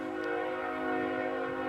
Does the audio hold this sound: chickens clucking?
no